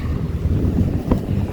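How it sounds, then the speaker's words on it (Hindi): Steady, strong wind outdoors in Auckland roars and buffets against the microphone as a continuous low rumble, with no voices. "और आज भी थोड़ी क्या काफ़ी हवा चल रही है, काफ़ी विंडी है।"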